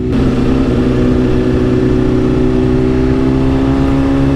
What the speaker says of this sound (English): I can't even hear the bikes now that I'm on my bike riding behind them, because my exhaust is so loud